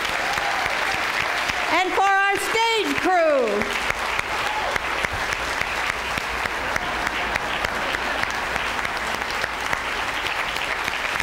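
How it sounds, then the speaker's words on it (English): Theatre audience applause at the curtain call of a stage production of Arsenic and Old Lace, sustained and fairly close, with someone speaking and a brief burst of singing voices early on. "Please, nice round of applause for them."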